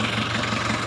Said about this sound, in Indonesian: coba digas dulu, kita tes di bagian ininya